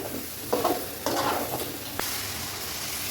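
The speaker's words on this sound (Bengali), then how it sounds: "জিরা পাউডার, মরিচের গুঁড়ি, আলু দিয়ে দিচ্ছি এখন এর মধ্যে।" Cumin powder, chili powder and potatoes fry in a pan with meat for khichuri, a steady close sizzle broken by a few scraping stirs and one sharp clink of utensil on pan.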